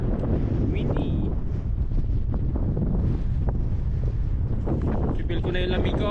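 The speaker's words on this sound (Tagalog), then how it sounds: "super windy" Strong gusty wind on a California hiking trail, rumbling and buffeting the microphone in uneven surges, with brief voices and chirpy sounds breaking through near the end.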